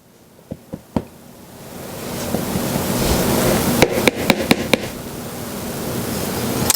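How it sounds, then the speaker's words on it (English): Biscuit dough being worked with a pastry cutter to cut in butter: a few dull knocks at first, then a steady rough scraping with a quick run of sharp clicking taps midway. No talking. "now I'm going to cut this in with my pastry cutter"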